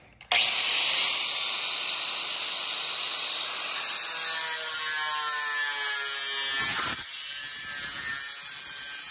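A custom J-mold trim piece is cut with a power saw, a loud continuous high-pitched whine starting abruptly and holding steady for several seconds, with a brief dip near the end as the cut finishes.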